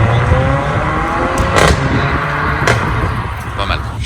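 A Brabus 45 car pulls away on a Paris street, its engine note building under a man's speech, with a couple of sharp transient cracks amid steady street noise.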